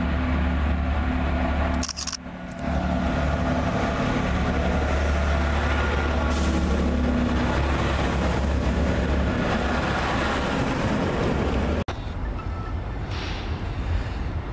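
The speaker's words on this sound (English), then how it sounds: "Just now coming in the stock for the 1831 service to London Paddington, which is 43154" Class 43 high-speed train set 43154 pulls into a station for a London Paddington service, a steady loud diesel engine rumble with rolling wheel noise that holds throughout, broken by a sharp clunk near the end.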